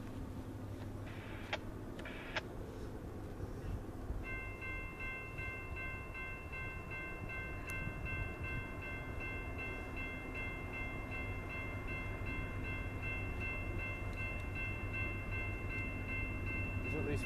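A freight train pulled by two EMD locomotives passes steadily at moderate distance, a continuous rumble of wheels and cars with a sustained multi-tone horn chord for much of the pass.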